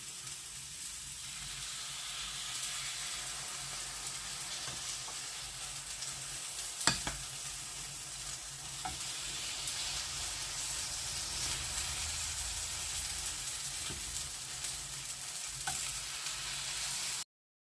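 Eggplant halves topped with minced meat fry in a covered pan, giving a steady, close sizzle and hiss that runs unbroken throughout, with a few faint clicks of the lid or utensil and no talking.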